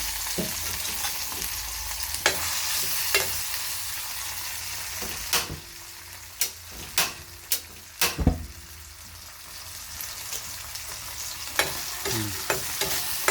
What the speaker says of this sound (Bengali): তেল গরম আছে, দিয়ে দিলাম।